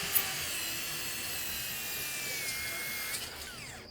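A power tool cuts extra composite decking material, giving a loud, continuous high-pitched whine for about four seconds that shifts slightly in pitch near the end.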